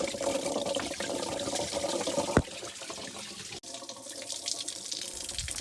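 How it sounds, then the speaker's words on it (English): Coolant pours and splashes out from a Toyota FZJ80 Land Cruiser 1FZ-FE engine as a thermostat seal is broken, a continuous watery rush close by with one brief knock partway through. "You can hear the coolant leaking out"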